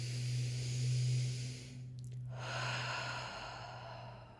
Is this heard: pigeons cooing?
no